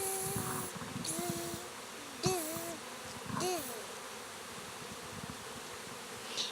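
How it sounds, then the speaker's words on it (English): Honeybees buzz around an open hive during an inspection, a close, continuous drone with individual bees swooping past, their pitch rising and falling as they fly near. "A crowd of bees."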